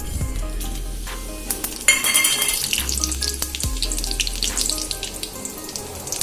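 Whole spices such as bay leaf, dried red chillies, cinnamon, cardamom and cumin crackle in hot ghee, a close sizzle with stirring clatter, and running water adds a steady wash partway through.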